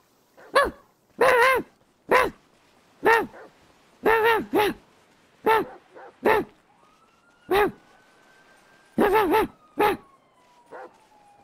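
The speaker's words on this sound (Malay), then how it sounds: "Eh, ada anjing!" A dog barks in GTA 5 in a sharp, irregular series of loud single and double barks, close by, with a faint siren rising and falling in the background.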